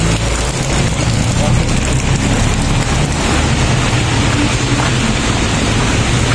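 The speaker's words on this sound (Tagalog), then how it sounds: "Hindi tumigil yung ulan eh" Steady rain pouring down outdoors, a dense continuous hiss that stays even throughout with no letup.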